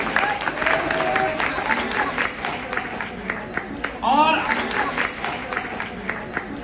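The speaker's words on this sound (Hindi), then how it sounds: "जोरदार ताली होनी चाहिए चैनल के लिए।" A gathering at a science coaching institute gives a round of applause, sustained clapping from a crowd at moderate volume with voices and other small noises mixed into the clatter.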